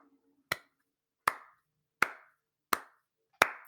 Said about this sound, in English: I don't like your sarcastic applause